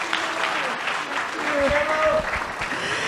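A steady, full round of audience clapping fills an auditorium at a community event, dense and continuous, with a voice faintly speaking over it.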